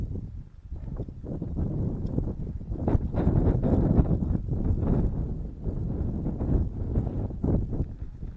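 Light wind blowing outdoors beside lakes in the mountains, a steady low rumbling buffet across the microphone with gentle gusts swelling and easing, no voices.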